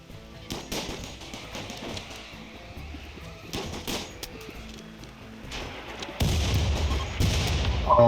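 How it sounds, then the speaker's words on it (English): Mortars fire in the RimWorld video game as a string of dull thumps and blasts, some closer and louder, followed by a heavier rumbling stretch near the end. "Oh, both of those mortars."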